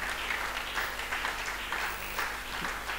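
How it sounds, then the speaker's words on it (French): A church congregation applauds during a worship service, producing a continuous, fairly distant wash of clapping that holds steady throughout. "On acclame le Seigneur."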